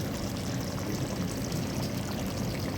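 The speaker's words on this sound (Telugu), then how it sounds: "జస్ట్ ప్లేట్ పైన వాటర్ మాత్రమే పోస్తాను" A continuous rushing pour of water onto a plate covering cooking chicken, steady and close, with no talking.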